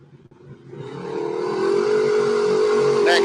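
Rally car on a Welsh stage course, its engine swelling from quiet to a loud, steady roar as it approaches and passes close by.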